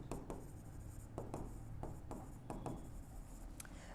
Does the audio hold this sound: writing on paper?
yes